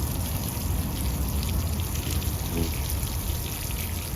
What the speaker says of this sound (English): I'm going a bit heavy with my water in today.